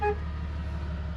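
A single short toot of a car horn out on a trail in winter, sounding at the very start and followed by a low, steady rumble of background noise.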